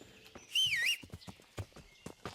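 A horse in the medieval video game Kingdom Come: Deliverance gives a short, high whinny, then several soft hoof clops sound unevenly across the rest of the moment.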